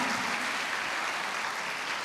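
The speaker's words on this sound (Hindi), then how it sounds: "जोरदार तालियां बजा दीजिए" A crowd applauds steadily, a dense wash of clapping that holds evenly throughout, with no voices over it.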